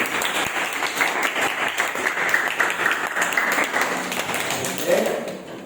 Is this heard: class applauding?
yes